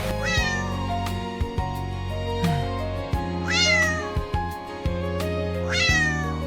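A yellow cat meows repeatedly, three drawn-out plaintive calls rising and falling, close and clear with no talk.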